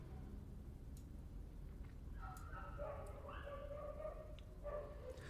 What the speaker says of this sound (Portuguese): Enquanto os cachorrinhos estão aqui falando com a gente, né, lá de longe